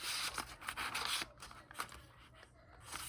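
Scissors snip across the top of a notebook page in a few quick, close, quiet cuts with paper scraping, and no one talking.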